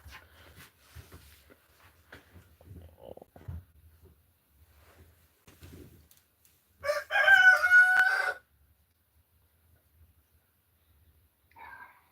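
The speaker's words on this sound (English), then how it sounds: "There's Mr. Rooster again." A rooster crows once in a single loud, drawn-out call that stands out clearly against quiet indoor background noise and a few faint thuds.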